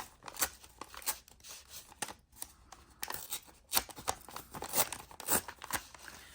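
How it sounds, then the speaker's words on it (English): Edges of paper for junk journal pages are torn by hand, producing a series of short, crisp ripping bursts at close range with brief pauses between them. "I'm going to tear the sides just to give it a different kind of feel on the edges of the paper"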